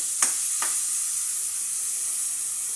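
Tomatoes and onions sautéing in a hot pan for Ilocano-style mung bean stew, giving a steady, even sizzle throughout with two brief utensil scrapes near the start.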